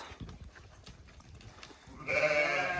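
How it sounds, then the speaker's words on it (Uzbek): Arashan sheep from Kyrgyzstan in a farm pen: low shuffling and rustling of the flock, then a single clear bleat near the end. "Ana qo'ylarimiz."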